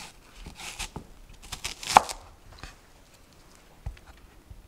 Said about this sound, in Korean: 이제는 또 양파를 한번 다듬어 볼게요